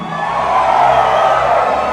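Concert crowd at The Masquerade in Atlanta during a live show, a sustained roar of cheering and whooping voices that holds steady and loud for the whole stretch without pause.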